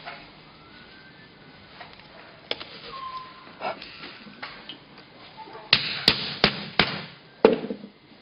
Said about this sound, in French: On va peaufiner avec un petit coup d'échoppe.